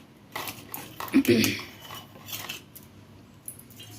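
Metal utensils and dishes clink and clatter as they are gathered up for washing in a home kitchen, a brief cluster of knocks peaking early and then a few lighter taps.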